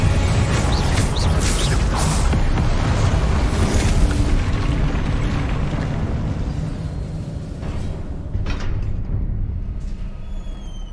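A Confringo blasting curse from a Harry Potter video game, a loud booming explosion with a rumbling roar that slowly fades over several seconds, alone without talk.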